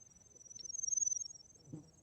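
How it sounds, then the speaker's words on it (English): Crickets or cicadas in a forest soundscape give a faint, high, pulsing trill that swells and fades over about two seconds, alone in a quiet setting. "Maybe these are more like you know, the crickets or the cicadas or whatever."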